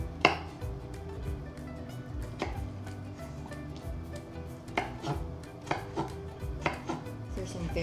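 Knife chopping juicy tomatoes on a board, sharp irregular thuds and taps at close range, some louder strikes standing out, over faint kitchen background with no talking.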